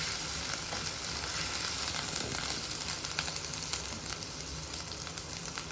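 Ginger-garlic paste fries in a pan for sardine curry, giving a soft, continuous sizzle with faint crackles and occasional light stirring, close and unbroken by talk.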